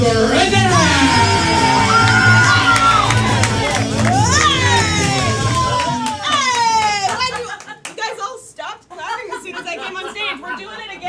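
A comedy show audience yells, cheers and chatters noisily, with whoops and shouts layered over loud crowd noise that drops off partway through into scattered voices and claps.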